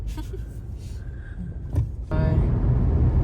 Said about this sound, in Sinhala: දැන් මේකේ ටර්බෝ එක ඔන් වෙලා තියෙන්නේ.